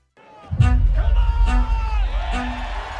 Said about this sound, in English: Oh, he's getting the crowd going.